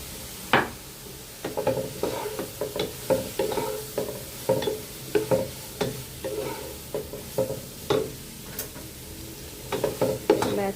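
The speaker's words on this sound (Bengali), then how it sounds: "একটু গোলমরিচ দিয়ে একটু ভাজবো।" Rice pulao with black pepper frying and being stirred in a pan: a steady sizzle under repeated scraping stir strokes at an irregular rhythm, close and moderately loud, with no voices.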